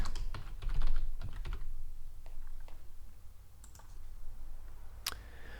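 Computer keyboard typing and mouse clicks ring out close and crisp, with quick bursts of keystrokes early on and scattered sharp clicks after.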